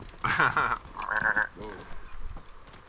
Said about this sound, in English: I know it's more of a goat kind of noise